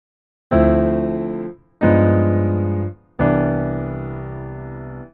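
Three sustained, dissonant dominant 7 flat 9 sharp 5 chords struck one after another on a keyboard instrument, each ringing out and fading before the next; no voices.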